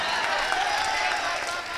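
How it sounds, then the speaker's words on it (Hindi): Audience members at a mushaira poetry gathering clap hard, making a dense, steady wash of applause that stays loud and unbroken throughout, with no speech on top. "इसके लिए जोरदार तालियां बजा दें।"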